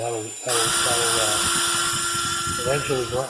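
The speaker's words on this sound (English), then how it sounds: "I'm gonna speed things up by just using the little sanding disc here." A high-pitched drill whine spins steadily, a sanding disc grinding down and polishing an edge on an Ender 3 Pro 3D printer part, as someone talks before and after the burst.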